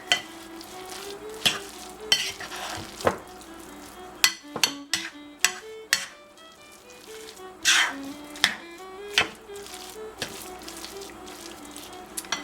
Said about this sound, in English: I probably don't need to stir all that much, just enough to get everything mixed together